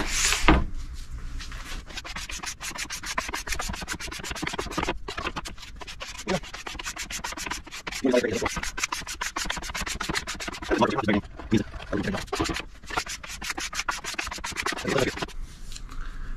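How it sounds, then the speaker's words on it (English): A smaller plastic wax scraper drawn over a snowboard or ski base, making steady rubbing scrapes in repeated strokes, close and fairly quiet, with occasional talk. "I'm gonna switch over to my smaller scraper here."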